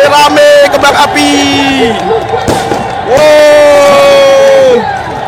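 Crowd cheering and shouting at a public screening of an Indonesia vs Bahrain football match in Kudus after an Indonesian goal, loud and dense throughout, with sharp bangs that fit fireworks and voices calling out over the din.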